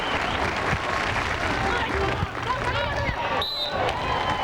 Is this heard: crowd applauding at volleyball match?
yes